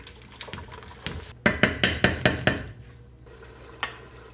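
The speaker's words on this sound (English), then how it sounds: "that water is going to help pick up the soup mix from the bottom of the pan and get that stirred all in there" Spoon or utensil stirring soup mix and water in a metal pan, a quick run of six sharp scraping clinks against the pan in the middle, with softer scrapes before and one more after, close and fairly loud.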